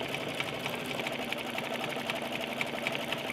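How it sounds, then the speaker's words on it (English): An embroidery machine stitches an in-the-hoop bear lovey, gliding over the thicker areas where the arms and legs are attached; a steady, fast mechanical whir with rapid needle ticks runs close and continuous throughout, with no talking. "the machine can easily glide over the areas where I've added the arms and the legs"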